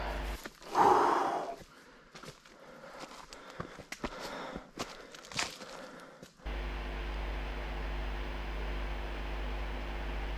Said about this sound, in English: Hear me panting.